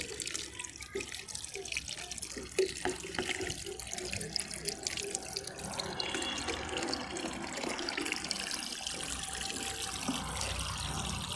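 Water pours steadily into a pot for growing a lotus plant, a continuous close splashing and trickling stream that grows fuller and denser as it goes, with no talk.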